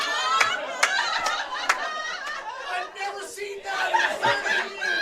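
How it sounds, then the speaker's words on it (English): Crowd at a mixed doubles curling quarterfinal growing vocal, with chatter, chuckles and scattered claps filling the arena at moderate distance. "crowd starting to get a bit vocal"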